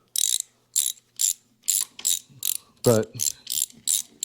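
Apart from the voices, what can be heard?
Thornton ratchet and socket clicking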